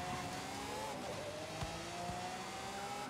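A car in Forza Horizon 5 driving the wrong way around a circuit, its steady engine drone and rising whine continuous and close, with a couple of faint thumps underneath.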